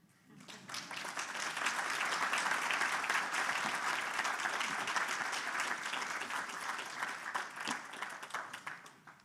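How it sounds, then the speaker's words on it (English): Audience at a master's degree graduation ceremony breaks into sustained applause, swelling quickly to a full, steady roar of clapping before tapering off at the end, with faint voices mixed in. "Well, really great applause."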